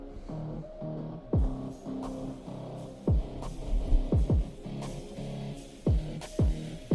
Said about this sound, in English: Interesting, like muted bass.